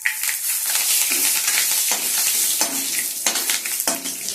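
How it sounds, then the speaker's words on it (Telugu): Dried red chillies fry in hot tempering oil with a constant bright crackling sizzle, broken by a few soft stirring scrapes in the pan. "రెండు వట్టిమిరపకాయలు, తాలింపు ఎప్పుడు దూరగా వేగాలండి"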